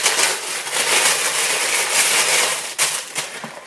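White tissue paper from a goodie box crinkles and rustles loudly as it is unwrapped by hand, a dense continuous crackle close up, ending in a few sharper crumples.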